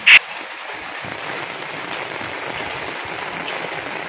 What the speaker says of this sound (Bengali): এমন তুমুল ঝড় বৃষ্টি শুরু হলো যে আর কি বলবো, তোমরাই দেখো